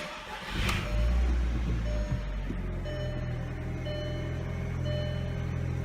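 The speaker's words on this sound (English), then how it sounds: "start up the car." MK4 Volkswagen 1.8T engine cold start: a brief starter crank, then the engine catches and settles into a steady idle rumble, close by.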